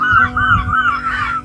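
Gulls call at a carp lake on a cold, windy day, a run of repeated honking cries close and fairly loud over a low steady wind rumble, with no one talking.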